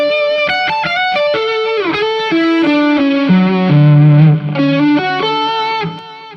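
Electric guitar playing split-arpeggio triads through effects with distortion and chorus, loud, rapid picked notes shifting between chord shapes, with a sustained low note swelling near the middle.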